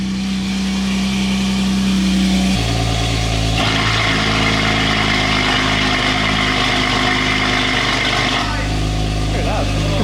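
A BMW S55 engine with a Valvetronic exhaust, running loud and close at idle, its deep rumble shifting as revs rise and fall in steps, with a voice talking over it.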